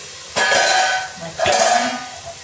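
Potato and mushroom pieces for a spicy fried '65' dish are stirred and sautéed in a pan: two distinct scraping strokes rise out of a low, continuous sizzle, close and fairly loud.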